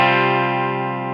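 A single sustained clean electric guitar tone rings out loud and close, one chord or note holding and slowly decaying over about a second with no talk.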